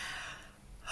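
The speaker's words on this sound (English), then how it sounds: "That's a yawn with a sound." An audible yawn with a breathy, gasping inhale that fades and then rises again, close and alone without speech.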